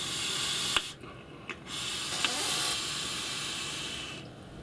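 A long, steady airy hiss of a mouth-to-lung draw on a Dead Rabbit SQ RDA vape, close and continuous for about four seconds, with no talking.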